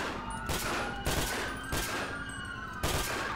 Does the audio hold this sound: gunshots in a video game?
yes